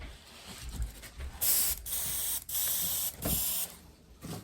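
Short bursts of airbrush spray hiss onto cardboard, three or four in a row with brief gaps, fairly loud and close, with faint handling noises between.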